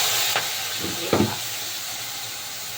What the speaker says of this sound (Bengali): এখন মশলা ভাজা হয়ে গেছে, তেল ছেড়ে দিয়েছে।